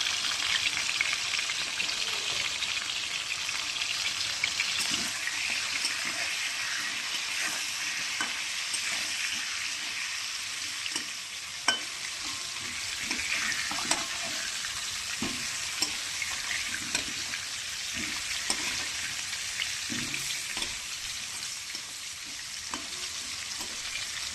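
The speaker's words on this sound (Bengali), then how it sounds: "আলুটা একে একে ভেজে নেব সুন্দর করে, লাল করে আলুটাকে ভেজে নেব।" Potato pieces frying in hot oil with turmeric, a dense, steady sizzle that runs loud and unbroken throughout, close up, with occasional faint clicks and no voices.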